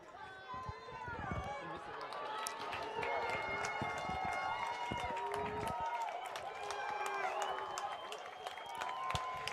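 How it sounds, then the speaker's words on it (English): A home football crowd and student section at a high school game roar and cheer in a steady rising din, while an announcer talks over the noise throughout. "Raider crowd getting loud. Student section getting really loud."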